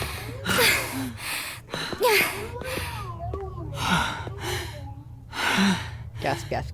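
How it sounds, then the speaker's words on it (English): A game character gasps repeatedly in short, sharp breathy bursts, several in a row over a low background hum, with voiced sighs mixed in. "Gasp, gasp, gasp."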